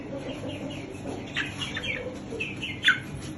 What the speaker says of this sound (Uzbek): Mana jo'jalar aka-ukalar